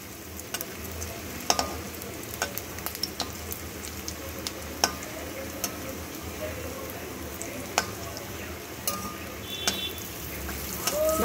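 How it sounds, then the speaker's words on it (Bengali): Pieces of dhoka, a Bengali lentil cake, fry in a little oil on low heat, giving a steady soft sizzle broken by sharp clinks of a utensil turning them in the pan, close and clear. "উল্টে পাল্টে শুধু এপিট ওপিট পনিরের মতন একটু ভেজে নেব।"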